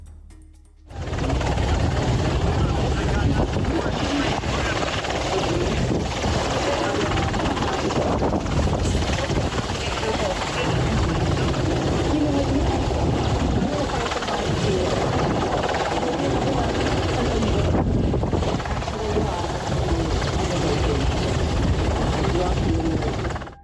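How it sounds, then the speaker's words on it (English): A medical helicopter sent out to a cruise ship flies steadily for the whole stretch, its loud, continuous rotor and engine roar broadband and unbroken after a quick start. "a helicopter with medical personnel was sent for that purpose"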